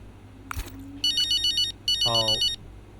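A phone ringtone in an F1 25 video game cutscene, two bright electronic ringing bursts close together and loud, with a short voice sound between them.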